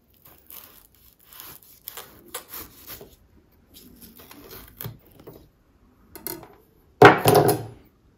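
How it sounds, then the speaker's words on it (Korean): Knife thinly slicing the base of an onion on a cutting board, a series of soft scattered cuts and crunches followed by one louder, sharper crunching slice near the end, heard close with no talk. "이 심지 부분을 얇게 썰어 줄게요"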